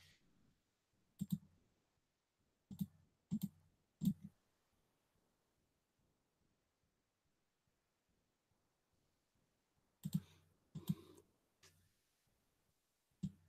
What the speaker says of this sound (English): Sorry, just clicking on some stuff there, closing some stuff.